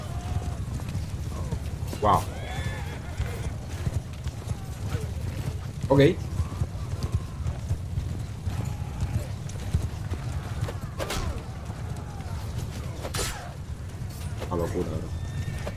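Mounted horse archers in a video game gallop with a steady, dense clip-clop of hooves and occasional whinnies, heard as a continuous battle bed while a player talks over it.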